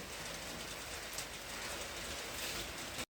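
Steady rain falling outdoors on a warm day at a home with a summer kitchen, a soft, even hiss of drops spread across the whole clip with no voices, cutting off abruptly at the end.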